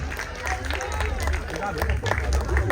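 A crowd claps continuously at a volleyball and throwball league closing ceremony, a dense, steady patter of hands with a hum underneath.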